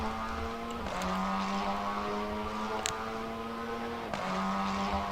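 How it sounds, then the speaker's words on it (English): Cupra race car engine on the Nurburgring, a loud sustained multi-harmonic drone that rises steadily in pitch, with two sharp gear changes dropping the note before it climbs again. "Just hear that engine sound."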